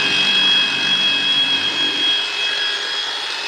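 Electric motor driving a pump at about 3,600 RPM, a steady high-pitched whine with strong tonal lines and broadband hum, loud and continuous with no talking.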